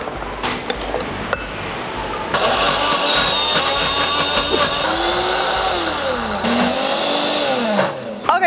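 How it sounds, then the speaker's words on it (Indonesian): Tefal blender grinding spice paste with oil, a loud motor roar that starts after a few knocks and runs steadily for several seconds, its pitch wavering as the blades churn the thick mixture. "ini aku pakai blender dari Tefal."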